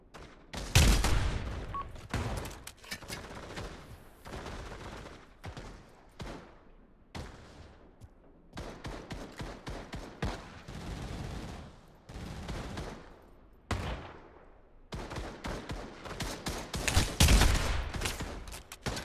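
Musket volleys in the Pavlov VR game with British soldiers: repeated loud, close gunshots and crackling fusillades fire in irregular bursts through the whole stretch, with almost no talk.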